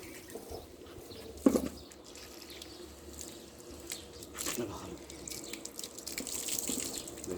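Water runs from a tap while a golden retriever is rinsed during a bath, with soft splashing and dripping and a few louder bursts, heard close up.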